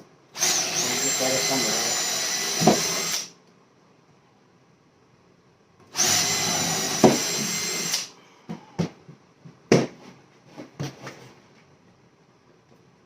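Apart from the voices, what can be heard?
power drill driving wood screws into workbench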